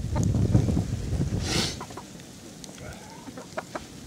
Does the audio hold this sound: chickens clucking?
yes